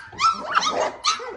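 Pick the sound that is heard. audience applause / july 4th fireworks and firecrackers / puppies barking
puppies barking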